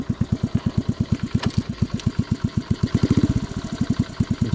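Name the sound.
C65 motorcycle engine running with untuned carburettor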